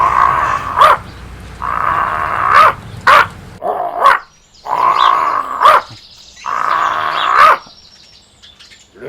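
A big dog barks and growls repeatedly at close range, loud bursts separated by short pauses.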